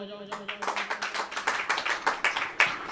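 A church congregation claps during a Hindi sermon. A voice sounds briefly at the start, then rhythmic, fairly close handclaps follow in a quick, steady pulse, each beat sharp and distinct.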